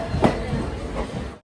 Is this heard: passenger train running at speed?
yes